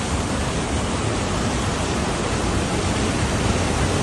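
Torrential floodwater surges down a Himachal mountain stream after a cloudburst, producing a close, constant roar of rushing water with no speech over it.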